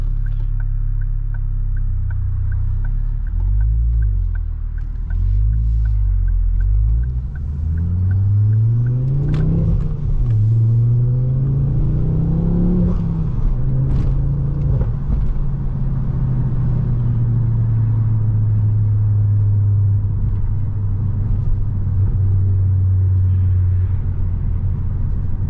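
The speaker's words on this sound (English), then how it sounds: "Oh, does that exhaust sound lovely?" A Mk2 Ford Focus ST with a Scorpion exhaust and a decat rumbles loudly while driving, its engine note rising and falling through revs and gear changes before settling into a steady deep drone, close and continuous.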